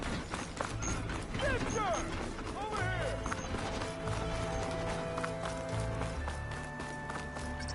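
A machine mount in Horizon Forbidden West clip-clops along in a steady, rapid rhythm of mechanical hoofbeats with whirring and ratcheting parts, close and continuous, while a voice speaks over it.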